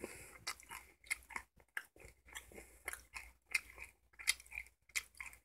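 Close, crisp crunching of a gangjeong snack being chewed, sharp irregular bites and crackles repeating over several seconds with no talking.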